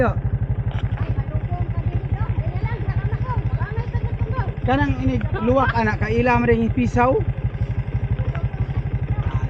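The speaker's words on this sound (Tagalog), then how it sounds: "ihunong ra nimong motor" A motorcycle engine idles close by with a steady, rapid low putter that runs throughout, loud and unbroken, while people talk over it.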